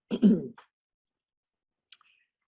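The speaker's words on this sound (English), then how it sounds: "I felt the cough coming, I'm sorry." A short, close cough burst at the start, followed by silence and a faint click shortly after.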